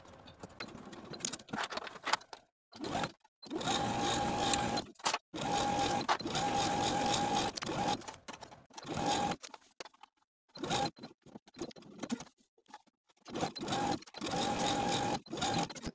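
A sewing machine stitches a bodice seam in repeated bursts, its motor whirring in close runs of one to two seconds that start and stop with short silent pauses between them.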